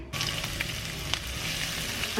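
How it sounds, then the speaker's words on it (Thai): Hot oil sizzles and crackles steadily in a hot frying pan, a dense hiss with a few louder pops, close by and with no talking. "ใช้กระทะนี่ผัดนะคะ เปิดไฟก่อน กระทะร้อนแล้วเราก็ใส่น้ำมัน"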